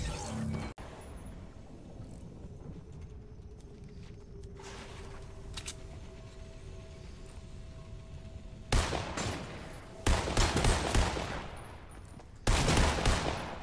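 Shotgun blasts in Fortnite, several loud sharp bursts clustered near the end over a busy background of game noise and scattered shots, with no voices.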